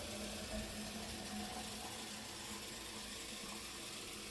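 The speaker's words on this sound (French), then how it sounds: "On va rajouter encore un peu d'eau." Water runs steadily from a tap into a cooking container on a home kitchen stove, a continuous close splashing rush with no talking.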